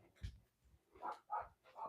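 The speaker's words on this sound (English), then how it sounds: "He's barking." A dog barks and yips softly in the distance, a few short muffled woofs spaced out over a couple of seconds in a quiet room.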